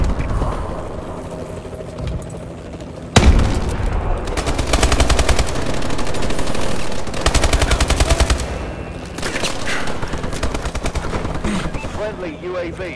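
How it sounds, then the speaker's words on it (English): Heavy aircraft gunfire from a Warbird support strike in a first-person shooter game: sudden loud sustained bursts of rapid automatic fire, repeated in long rattling streams with brief gaps. "Warbird support requested."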